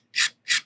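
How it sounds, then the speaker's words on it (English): A fresh blade scrapes along the edge of a resin model part in two short, crisp strokes of rasping, near and fairly loud, with silence between them. "I like to get a brand new blade and scrape it"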